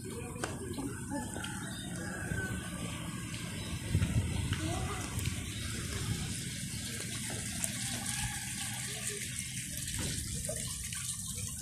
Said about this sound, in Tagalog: there's the fountain